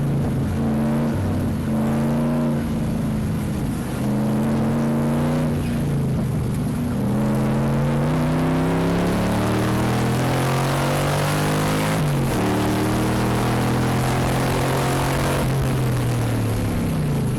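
Several race cars, including a BMW E30 and a Cobra, battle wheel to wheel at a Dezzi Raceway endurance race, engines droning loudly with rising and falling pitch as they accelerate and shift, with no voices.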